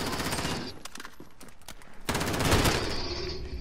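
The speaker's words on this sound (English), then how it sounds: "I hit him twice with a shotgun, he didn't die." Shotgun blasts ring out during a chaotic video game shootout around a house full of enemies: scattered sharp bursts early on, then a dense, loud stretch of overlapping gunfire that keeps going to the end.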